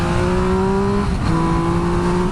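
A 2016 Triumph Speed Triple R, a liter-class triple-cylinder motorcycle, hums at a steady note close by, with a brief dip and shift in pitch midway before settling back to an even drone.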